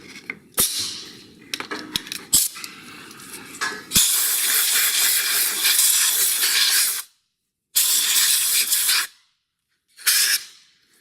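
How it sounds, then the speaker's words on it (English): Aerosol spray cleaner hisses in several long bursts onto a Steinberger guitar, loud and close, broken by short gaps and a few clicks and taps before the spraying starts. "I think it needs a little bit of a clean with the spray."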